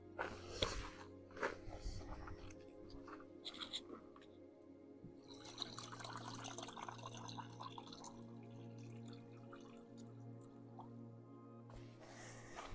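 Water trickles and drips softly into a dog's bowl. It is a quiet, close sound that goes on steadily for several seconds with small splashes.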